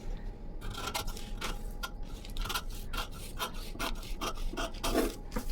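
Scissors cutting blouse fabric along a marked line, a close, steady series of rasping snips and rubbing crunches repeating in quick, uneven rhythm with no talking.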